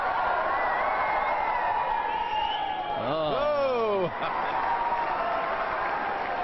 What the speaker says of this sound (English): he's got the crowd all excited.